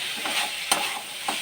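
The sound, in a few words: sautéing chicken ghugni with potato and peas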